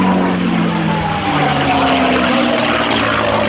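A propeller warplane, a Supermarine Spitfire or North American P-51 Mustang, drones loudly overhead at the Midlands Air Festival, its engine tone sliding slightly downward as it passes, with crowd noise beneath.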